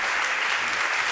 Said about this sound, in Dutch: Geef een warm applaus.